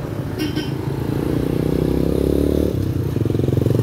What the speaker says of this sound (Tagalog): Tricycle.